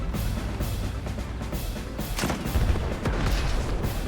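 Tank unit opening fire on an artillery unit in the Advance Wars 2: Black Hole Rising strategy game, a dense run of loud, repeated gunfire and booming blasts lasting several seconds with no talking.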